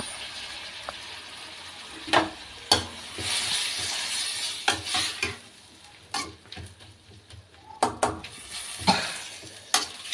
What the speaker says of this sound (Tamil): நம்ம கட் பண்ணி வச்சுருந்த இந்த டொமேட்டோவை மொத்தமாக ஆட் பண்ணிவிட்டு இப்போ இதையும் நம்ம நல்லா வதக்கணும்